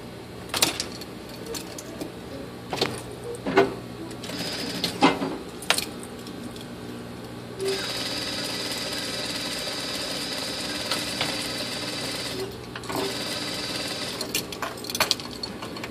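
A home sewing machine stitching the corners of a pair of shorts, its steady whirring run holding for several seconds between shorter starts, with scattered clicks and handling noises around it.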